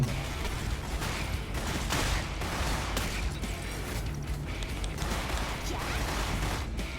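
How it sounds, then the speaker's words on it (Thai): Luly, a character in Seven Knights 2, crouches and releases a charged gunshot skill: a string of punchy blasts and impacts over a busy, constant battle din, fairly loud throughout. "ลูลูลีก็จะลงไปนั่งนะครับ แล้วก็ชาร์จยิงออกมาโอ้รุนแรงมากนะครับนี่"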